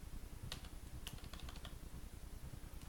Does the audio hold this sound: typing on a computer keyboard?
yes